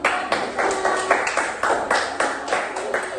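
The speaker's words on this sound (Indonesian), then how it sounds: "Tepuk tangan." A group claps in a brief burst of applause, with regular, evenly spaced claps carrying on steadily for a few seconds.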